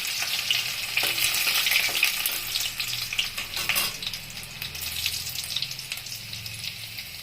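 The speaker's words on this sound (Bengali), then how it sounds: "এখন ফোড়নে দিব রসুন, রসুন কুচিটা দিব।" Chopped garlic for chilli cauliflower sizzles in hot oil in a pan, a steady close frying hiss with occasional stirring scrapes throughout, no voices.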